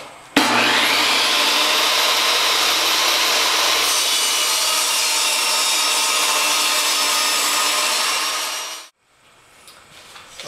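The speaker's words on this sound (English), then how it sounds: "now I'm going to cut the frame to size" Power saw cutting wood down into 1-inch strips for a poster frame, a loud continuous whining cut of about eight seconds that winds down abruptly into near silence.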